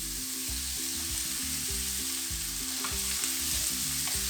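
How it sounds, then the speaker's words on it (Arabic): Minced kefta meat frying in a pan, a steady broadband sizzle running throughout, with background music playing underneath. "دابا غادي نضيف الكفته"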